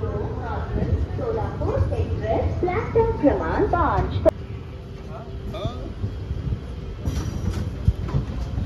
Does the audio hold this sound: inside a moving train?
yes